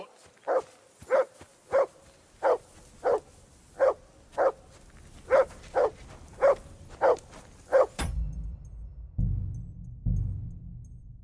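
A dog barks in Kingdom Come: Deliverance 2, a dozen evenly spaced barks in a steady rhythm, fairly close. They stop abruptly and give way to low, muffled rumbling.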